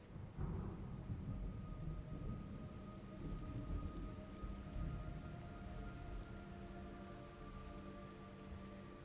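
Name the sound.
rain and thunder in video game Metal Gear Solid Delta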